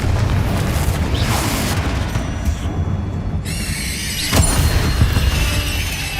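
Confringo and Bombarda spell blasts from the Hogwarts Legacy video game, a dense continuous roar of booming explosions with sharp bright bursts and a whooshing sweep partway through, loud throughout.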